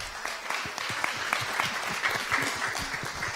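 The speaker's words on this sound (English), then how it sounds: "Big applause for Annemoon" An audience applauds a speaker at a talk event on consent, compost and community, steady dense clapping that fills the room for a few seconds with no voices over it.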